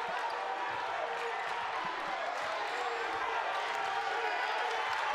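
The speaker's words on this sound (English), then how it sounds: "Now the crowd's starting to get into it." A crowd at a high school basketball game between Brentwood and Longwood cheers and claps in a steady, dense wash, with a basketball bouncing and a commentator talking over it.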